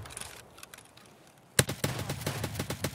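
Shotgun fire in the video game Escape From Tarkov, a sudden loud close blast after a quiet stretch, followed by a rapid run of repeated shots.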